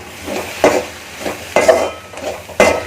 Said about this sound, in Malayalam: ഈ ഉള്ളി ഒന്ന് ഇളക്കി കൊടുക്കാം